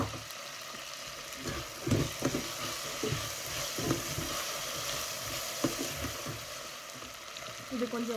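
Beans and potatoes sautéing in a pan for Tamil hotel-style tiffin sambar, a steady soft sizzle with scraping stir strokes and occasional louder clatters, close and continuous with no talk.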